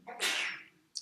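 A single sharp sneeze, close and fairly loud, with a brief breathy burst, followed by a short click at the end.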